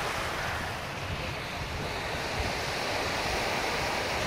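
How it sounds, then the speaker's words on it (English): Waves of the Arabian Sea roll onto the beach at Dadar Chowpatty in Mumbai in a continuous, close surf roar mixed with wind buffeting the microphone. "The sound of the waves."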